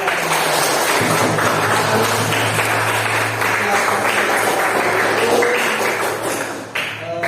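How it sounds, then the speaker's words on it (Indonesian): Sustained applause from a crowd at an anti-corruption education event at an elementary school, a dense, steady wash of clapping lasting several seconds before tapering off near the end. "Tepuk tangan dulu."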